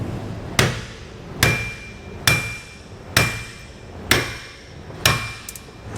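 A hammer strikes a bolt on a trailer's rubber equalizer in six sharp metallic blows, evenly spaced about a second apart, loud and close with short ringing decays and no talking.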